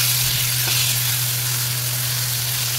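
Potatoes sautéed with spices in a pan hiss in a steady, even sizzle for the whole stretch, close and constant with a faint low hum beneath and no talking.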